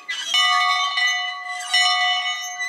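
A bell rings in two clear strikes, each with a bright, sustained metallic tone that lingers and decays, loud and close, with no talk over it.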